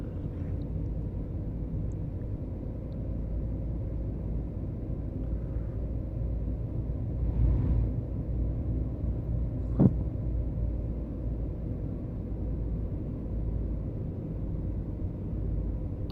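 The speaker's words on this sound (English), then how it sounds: "one of the nicest engines I've ever heard in a vehicle is the air-cooled V8 from a Magirus Deutz" A Magirus Deutz truck's air-cooled V8 runs at a steady, even idle. Its low, throbbing rumble stays loud and constant throughout, with one brief knock near the middle.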